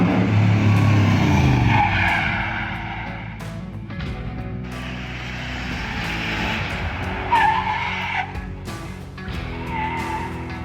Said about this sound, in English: we're actually establishing how well the brakes work on a stock Chevelle versus a heavily modified one